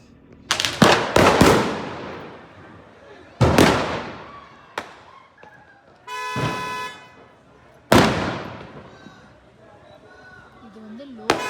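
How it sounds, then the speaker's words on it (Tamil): Firecrackers burst at Lal Chowk market in Kashmir during Diwali, several sharp loud bangs in clusters with crackling tails, one rapid string of pops midway, and faint voices and traffic around. "இங்கே வெடி வெடிக்கிறாங்களா?"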